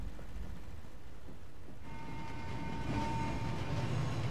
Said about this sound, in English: Is that a train or something?